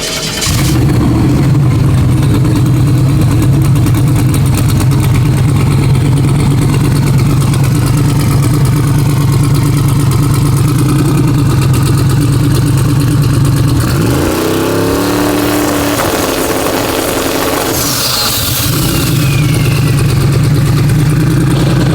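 A car engine fitted with a supercharger or twin turbo setup runs loud and close at a steady low rumble, dips briefly as revs change with a falling whine, then returns to a steady drone.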